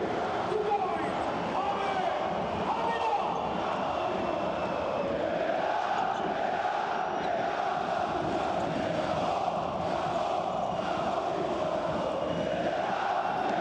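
A packed EuroLeague basketball arena during Olympiacos versus AS Monaco roars with a dense, constant crowd din, loud and unbroken throughout, with commentary talk running over the noise.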